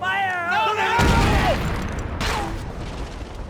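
An explosion in the video game Max Payne 3, a loud, broad blast cutting across a voice, followed by a rumbling tail and a second swell of debris noise.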